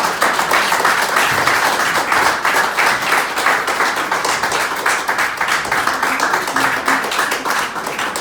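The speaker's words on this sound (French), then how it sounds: "Applaudissements." Dense, sustained applause fills a church service as the congregation claps steadily and loudly throughout, with no break.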